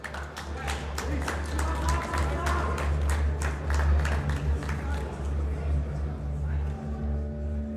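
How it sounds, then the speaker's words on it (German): A crowd at a fight-night event applauds the two fighters, a sustained wash of many hands clapping under a steady low rumble of a large venue, with an announcer's voice carrying over it. "Großen Applaus für Sartabe Mchami und Magomed Shuaipov"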